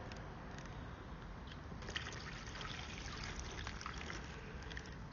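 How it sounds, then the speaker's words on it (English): Water trickles and pours steadily into a container holding small swimming creatures, making a continuous close, hissing flow with no speech. "Shall I try putting some more water in and make the water a bit deeper?"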